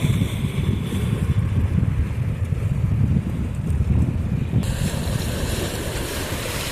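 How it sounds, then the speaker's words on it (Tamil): Waves push forcefully against a beach on the Arabian Gulf at Ras Al Khaimah, a loud, continuous roar of surf with heavy wind buffeting the microphone, no voices over it. "தண்ணி எப்படி ஃபோர்ஸாக அடித்து இந்த பக்கம் தள்ளுது."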